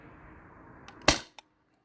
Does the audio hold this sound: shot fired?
yes